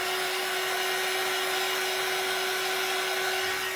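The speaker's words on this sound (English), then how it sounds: "Let me hit that with the dryer real quick." A hair dryer blows steadily on a plastic snowman craft, a loud continuous whooshing roar with a sharp constant whine, running unbroken from start to finish with no talking.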